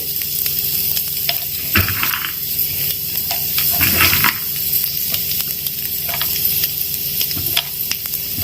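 Thinly chopped almond pieces sizzling and frying in a pan on the stove, a steady close crackle with occasional louder stirring scrapes and bursts, no one talking.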